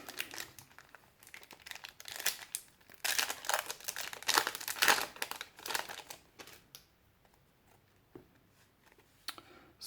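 Plastic wrapping on a Yu-Gi-Oh 2019 Mega Tin Box is crinkled and torn open, close and fairly quiet, in irregular bursts that swell mid-clip then thin out to scattered rustles.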